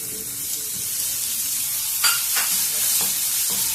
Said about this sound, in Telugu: అల్లం వెల్లుల్లి పేస్ట్ కూడా వేగిపోయింది బాగా.